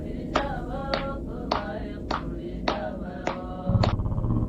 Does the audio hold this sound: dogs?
no